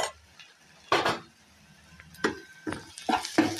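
Poha being lightly roasted with spices and stirred in a pan, heard as scattered scraping and clinking of a spoon against metal, with quiet gaps between strokes.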